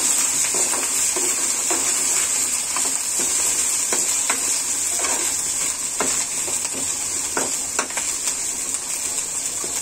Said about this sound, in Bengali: খুবই সহজে আমি রুই মাছটা ভেজে নিব